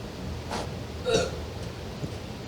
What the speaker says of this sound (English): That was a terrible burp.